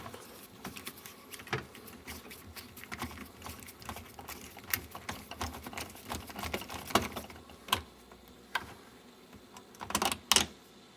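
Small screw being removed from a plastic piece inside a refrigerator, heard as a series of faint clicks, scrapes and ticks, irregular and close, with a few sharper taps near the end.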